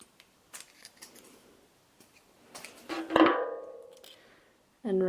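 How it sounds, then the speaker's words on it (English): Scissors snip through macramé cord in a few quiet clicks and rustles, then one louder, ringing cut near the end before a short voice enters. "So I'm going to cut these two lengths off."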